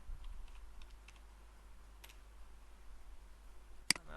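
Faint, sparse keystrokes on a computer keyboard in a quiet room, a handful of scattered clicks ending with one sharper tap.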